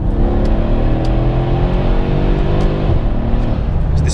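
A Mercedes-Benz W212 E63 AMG accelerates hard, its engine note rising steadily in a loud, continuous pull heard from inside the car, with a brief shift-like dip near the end.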